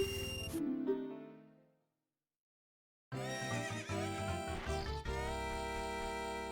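Synthesized horse whinnies from The Legend of Zelda: Ocarina of Time, one fading into silence, then a second louder neigh layered over bright game music.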